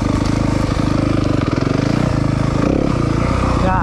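A Yamaha 250FX personal watercraft engine runs loud and close with a pulsing, buzzy drone, its pitch rising and falling slightly as the touchy throttle is worked.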